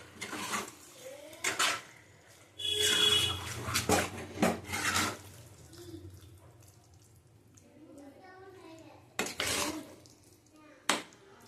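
A pan of Bombay duck fish, salted and turmeric-rubbed, being stirred as it fries, with clattering utensil scrapes and knocks in bursts between quieter stretches and a soft sizzle, a voice talking at moments.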